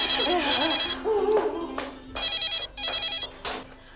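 An electronic telephone ringtone repeats in regular bursts, clear and close, alternating with short pauses.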